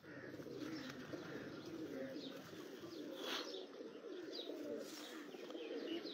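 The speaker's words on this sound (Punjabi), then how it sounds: "ਇਹ ਜੀ ਕਬੂਤਰ ਹੈ" Pigeons on a rooftop loft keep up a steady, low cooing chorus, continuous and fairly quiet, with occasional small chirps from other birds scattered over it and nobody speaking.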